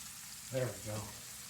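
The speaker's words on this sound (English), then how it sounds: "Now that it's starting to really sear up." Food sears in a frying pan with a steady, soft hiss and crackle throughout, while a voice speaks briefly over it.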